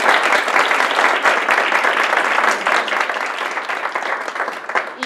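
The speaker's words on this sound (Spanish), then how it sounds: "les pido un aplauso para ellas" An audience claps for invited panelists at the close of a seminar session, a dense, even burst of applause that holds steady and slowly thins toward the end.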